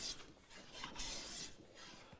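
A hand plane works the face of a wooden board in a hand-tool woodworking shop, giving continuous rasping, shaving strokes that swell and fade, close and fairly quiet with no talk.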